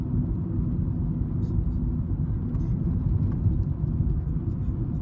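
A 2001 Volvo V40 estate with a 2.0 petrol engine idles with a steady, close, low rumble that holds even for the whole stretch.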